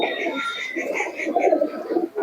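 A pair of fancy pigeons, one white female, coo softly at close range, of the Madras, Malbai and Giribaj kinds. The cooing is low and continuous, with rolling throaty pulses.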